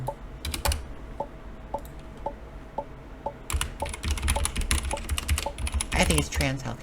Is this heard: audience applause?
no